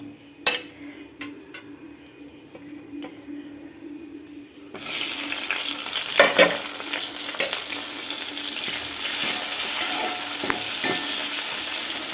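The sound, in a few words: green chillies frying in hot oil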